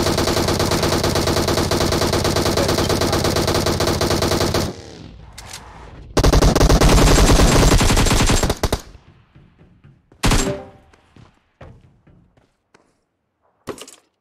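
Sustained automatic gunfire in the mobile battle-royale game PUBG Mobile: dense loud bursts for several seconds, a pause, another heavy burst, then scattered single shots and impacts fading out, with no talk.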